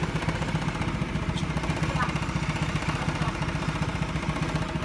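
A motorcycle engine running steadily after carburetor service, a close, even mechanical thrum with a rapid pulsing beat throughout, fairly quiet and without clear revving swings.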